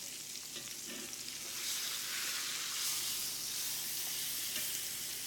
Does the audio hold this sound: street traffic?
no